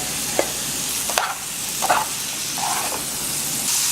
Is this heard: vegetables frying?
yes